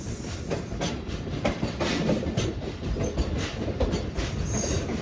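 A passenger train (Awam Express) rolls along steadily with a continuous rumbling roar and faint rhythmic clatter of wheels on track, fairly close and constant throughout.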